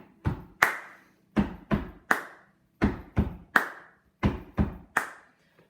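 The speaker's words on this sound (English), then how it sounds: "So 2 on the feet and then clapping here." Stomps and claps on a bare floor in the I Love Rock n Roll beat: groups of sharp, close, loud hits in a steady repeating two-then-one pattern with short rests between, no voices.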